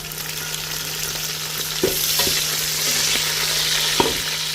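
Onions frying in a pan, a steady close sizzle with a few sharp spoon-against-pan clicks scattered through.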